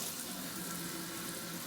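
Tap water running steadily into a pot being filled for canning pickle jars, a continuous, fairly quiet hiss and splash with no voices.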